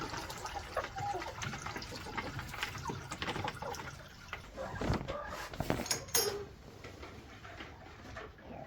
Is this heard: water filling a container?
yes